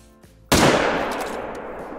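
A single sharp rifle shot at a moose in the hunting game Call of the Wild, loud and sudden after near silence, with a long rolling echo fading away.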